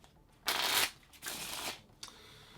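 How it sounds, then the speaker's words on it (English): A spectator shuffles a deck of playing cards in two quick riffling bursts, each about a third of a second long, close and crisp. A softer clack follows. "So the card can be handed out and shuffled by a spectator."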